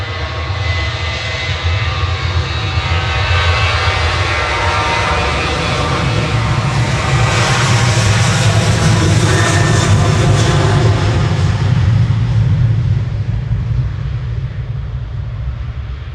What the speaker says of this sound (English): Ryanair departing